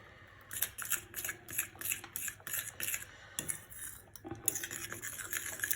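Chopped vegetables tossed and mixed by hand in a bowl, giving a quick, rhythmic run of soft clinks and wet squelches, close and fairly quiet, with no talking.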